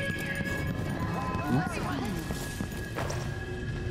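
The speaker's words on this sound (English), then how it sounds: "They heard someone running around where nobody should be." A player character runs in Death of the Outsider: a short flurry of quick footfalls and scuffs under game voices and ambient hum.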